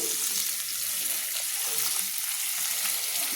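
Onions frying in a pan for Kolkata-style chicken biryani give a constant hissing sizzle that stays even and fairly loud throughout, without clear stirring or voices.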